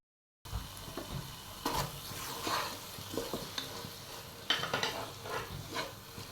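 Fried onions scooped out of hot oil in a pan while making a Thalassery-style chicken dum biryani: a steady close sizzle broken by several scraping ladle strokes.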